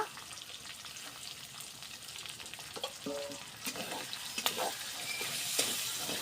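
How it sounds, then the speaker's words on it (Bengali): Chopped onion and garlic fry in a pan, a fairly quiet sizzle with scattered stirring scrapes and clicks that grow busier and a little louder toward the end, no voices. "আমরা আগে পেঁয়াজটা ভালোভাবে ভাজে নেব।"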